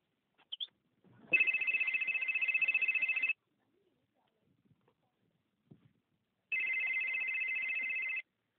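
A telephone rings while a call to the doctor is placed: two long, steady electronic ring bursts of about two seconds each, separated by a pause of near silence with a few faint clicks.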